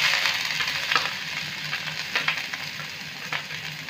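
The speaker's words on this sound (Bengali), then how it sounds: "এবার এখানে আমি দেব করলার যে খোসাগুলো আমি ছাড়িয়ে রেখেছিলাম সেই খোসাগুলো দিলাম।" Bitter gourd peels frying in hot oil with a pinch of asafoetida in a wok, giving a steady close sizzle with brief crackling surges as the pan is stirred.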